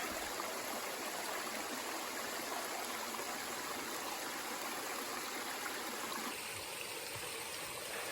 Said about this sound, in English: Love the flow of water.